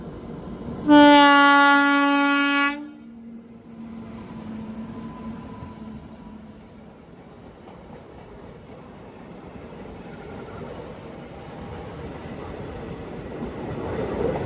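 A WP7 locomotive hauls the Dhanbad–Kolhapur express toward the listener and sounds one loud, sustained horn blast. A low rumble of the passing train follows and builds gradually.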